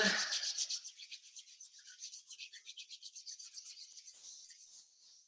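Palms rubbing briskly together during a qigong class, a rhythmic swishing friction that pulses steadily for several seconds, close and fairly soft, with no talking.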